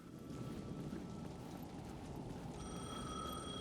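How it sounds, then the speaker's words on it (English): In the game Alan Wake 2, a payphone on a rain-soaked plaza starts ringing faintly after a few seconds of steady rainfall, its thin bell tone holding over the soft patter. "The payphone at the edge of the plaza was ringing again."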